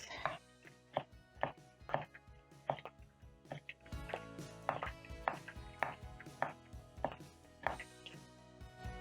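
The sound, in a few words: knife chopping onions and tomatoes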